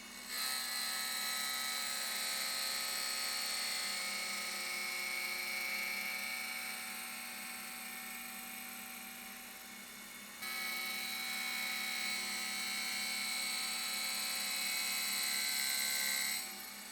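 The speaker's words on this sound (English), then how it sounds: "Now we can do another test grind." A cylindrical grinding attachment running a test grind gives a steady high whine with a constant tone, dipping briefly about two-thirds through and then coming back up, close and alone.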